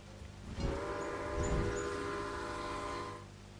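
A train runs in the railway strategy video game Railway Empire, a steady rumbling engine drone with a horn or whistle sounding over it, fairly faint and without speech.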